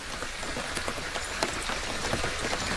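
Rain patters onto a river in a steady, close shower of small drops, with irregular sharper plinks standing out against the continuous hiss.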